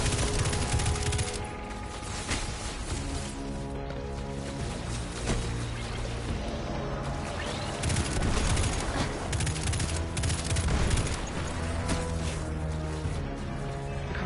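Dense, continuous video-game gunfire with overlapping automatic bursts and shots filling the whole stretch, loud and busy, with no clear speech.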